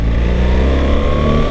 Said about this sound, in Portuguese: Dei agora aqui uma aceleração